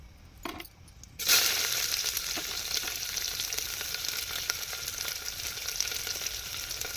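Cumin and mustard seeds hit hot oil and burst into a loud, sustained crackling splutter after a few brief clinks, popping densely and close throughout.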